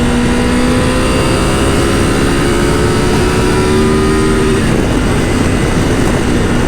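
Loud, close engine roar from a Triumph Tiger 1200 GT Explorer motorcycle held at high revs, a sustained strained whine that drops slightly partway through, with heavy wind rush underneath.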